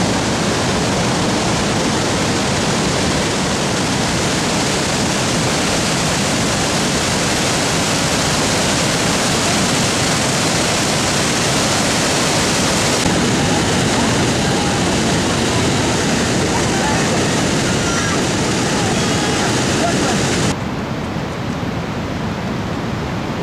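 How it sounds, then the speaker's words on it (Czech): The Eastern Cataract of Victoria Falls roaring as a loud, steady, broadband rush of falling water that fills the whole stretch, dropping slightly in brightness near the end. "Tak to je Eastern Cataract. To je asi tak desetina celého vodopádu."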